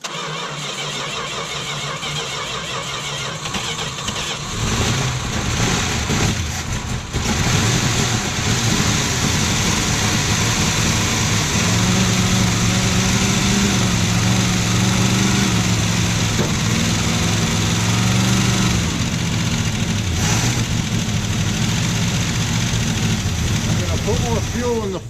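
A 1968 Dodge Charger V8, parked for 20 years, cranks and catches on ether, then runs roughly and loudly for several seconds; people talk over the engine.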